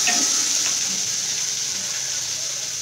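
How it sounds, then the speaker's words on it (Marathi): Chopped onion frying in a pan for a Konkan-style sukka chicken, a soft steady sizzle with a constant hiss that fades slightly, heard close and alone. "आता कांदा मस्त भाजून झालेला आहे"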